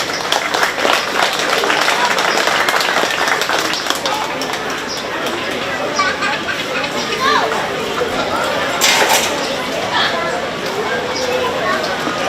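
Applause from the audience at a county fair 4-H bottle calf show, a broad ongoing patter of clapping across the whole stretch, with crowd murmur and a few louder claps rising above it.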